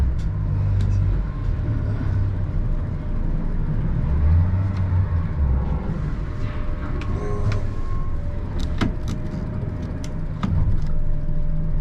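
Twin Yamaha F200 outboards on a 270 Hewescraft Alaskan boat run with a steady low rumble, shifting in pitch as the throttle changes, with faint clicks and mechanical noises over it.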